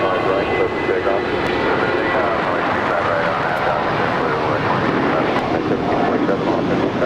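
A jet airliner taking off from runway 25 right at Los Angeles International Airport, a steady, loud broadband engine roar sustained throughout with no gaps, heard from nearby.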